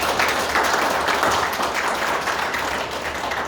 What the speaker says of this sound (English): give a round of applause for the great work